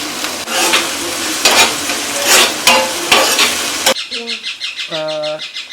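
Capsicum and onion frying in a pan with a loud, steady sizzle and stirring scrapes, followed by bird chirps outside once the frying drops away.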